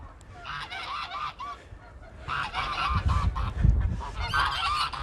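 Farm geese honking on a snowy smallholding, repeated loud nasal calls from several birds in overlapping bursts, nearby and without talk.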